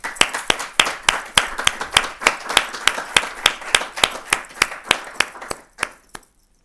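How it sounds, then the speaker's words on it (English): An audience at an academic talk on ancient Greek and Roman music applauds with steady, evenly spaced claps, crisp and close, for about six seconds before fading out. "please, we give him an applause."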